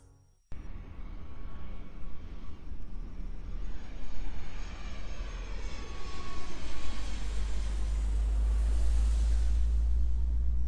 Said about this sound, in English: As the plane touched the runway at the Cairo International Airport, Silas shook his head